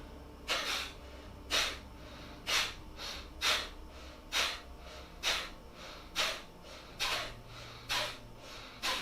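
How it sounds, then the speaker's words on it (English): Forceful breaths pushed in and out through the nose during a yoga breathing exercise, in a steady rhythm of sharp, loud, hissing bursts about once a second, close by with no talking. "you're breathing out only through your nose and breathing in through your nose"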